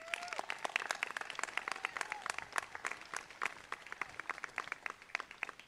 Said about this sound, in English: I would like to ask for a round of applause first for our principal, Mr. Hutton.